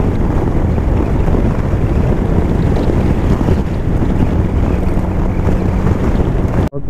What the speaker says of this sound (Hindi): साथ विंड का बहुत ज़्यादा प्रेशर, मोटरसाइकिल ऐसा लगता है ऐसे नीचे से भी निकल जाएगा